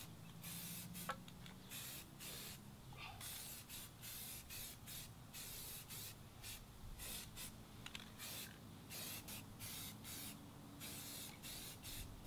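A spray can of oil-based paint hisses in a long series of short bursts while painting household furniture, steady and close, with brief gaps between each spray.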